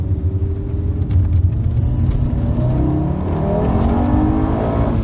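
Fiat Coupé accelerating hard along a straight road, engine note rising steadily with a deep rumble and whirring drive noise, close and loud throughout with no talking.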